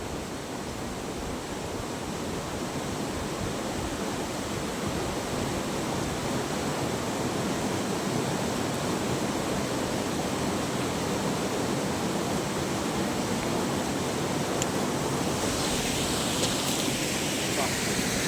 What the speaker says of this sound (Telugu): నీళ్ళు అయితే చాలా వేగంగా ప్రయోగిస్తుంది ఇక్కడంతా